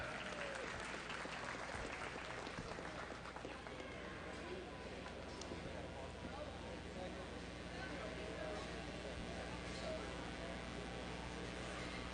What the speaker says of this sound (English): Let's give all these young kids as they're working hard through the day a big round of applause ringside.